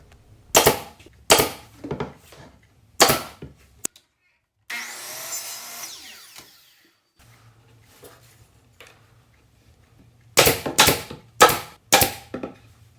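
A nail gun fires in quick, sharp pops fastening mitred wood trim strips, in two close bursts of several shots each, separated by a softer stretch of handling and rubbing noise.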